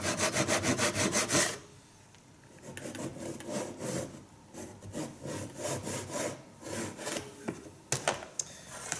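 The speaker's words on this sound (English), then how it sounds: "I've just cut through the shoulder of my rebate, going across the grain at that 15-degree angle." Hand saw cutting across the grain of wood at an angle for the shoulder of a rebate on a side table leg, with quick strokes at first and then a steadier, softer rasping rhythm.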